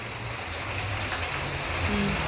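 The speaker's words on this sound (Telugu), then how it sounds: "వర్షం బాగా ఎక్కువైపోయిందిగా" Steady heavy rain hissing across the whole span, a dense constant wash with some low rumbling underneath and no voices.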